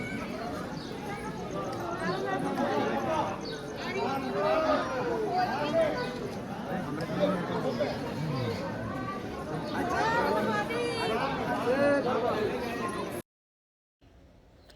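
A crowd of people gathered at Pashupatinath temple in Nepal in the morning fills the air with dense, continuous overlapping chatter, many voices near and far, with a few scattered footsteps before an abrupt cut to silence.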